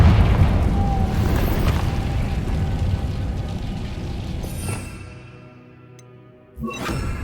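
Confringo blasting-spell explosion in the video game Hogwarts Legacy: a loud, rumbling blast with booming low end that sustains for several seconds and then fades, followed near the end by a sharp burst, with no talking.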